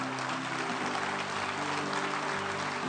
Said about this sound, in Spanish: Eso, aplauda al Rey, diga.